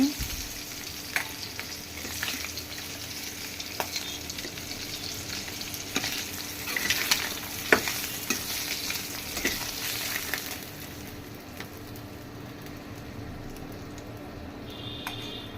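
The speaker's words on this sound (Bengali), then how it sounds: "মাছটা আমার ভাজা ভাজা হয়ে গেছে, এখন আমি তুলে নিচ্ছি।" Rohu fish fries in hot oil with a steady, close sizzle, broken by scraping stirs and clinks as the pieces are lifted out; the sizzle eases and quiets near the end.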